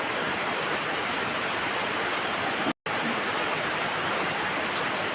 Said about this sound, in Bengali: বৃষ্টি হচ্ছে, তোমরা কি শুনতে পাচ্ছ আওয়াজটা?